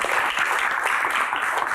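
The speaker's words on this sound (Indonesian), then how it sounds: "Sekali lagi tepuk tangan untuk Kang Sule" An audience applauds Kang Sule at a Q&A show, a brief, continuous burst of many hands clapping, fairly loud and even, with no voices over it.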